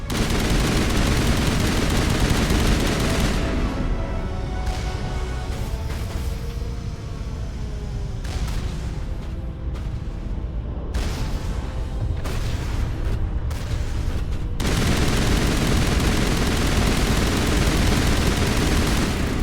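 Automated turret gunfire in the video game Mass Effect, loud dense bursts of rapid shots with a few short gaps, then more sustained firing.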